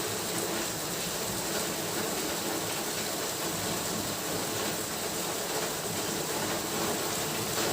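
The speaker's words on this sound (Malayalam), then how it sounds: "പുറത്ത് നല്ല മഴയാണ്." Heavy rain falls outside, a dense, steady broadband roar that continues unbroken and evenly throughout.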